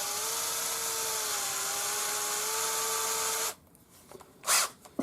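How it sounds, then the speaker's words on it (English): Cordless drill spinning a steel wire chucked in for bending cuff link parts, a steady high whine for about three and a half seconds that cuts off abruptly, followed by faint handling clicks and a brief rustle. "we'll use the cordless drill"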